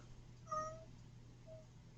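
A house cat gives a single short, faint meow over a low steady hum, followed by a softer brief chirp a second later.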